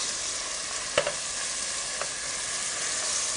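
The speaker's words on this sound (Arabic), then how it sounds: "هشوح اللحم لغاية ما يدبل عندي أو ينشف قصدي على الآخر ويتغير لونه" Minced meat sautés in a pan with a soft, steady sizzle, a couple of faint clicks of a spoon stirring through it, close and quiet with no talk.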